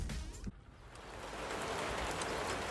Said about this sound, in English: it's a raining day